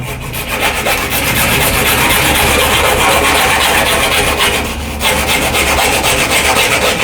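Wood being cut by hand, a loud close-up rasping saw stroke that keeps going steadily, with a brief pause midway before the scraping resumes.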